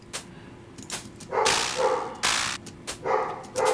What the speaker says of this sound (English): the dog is barking really loud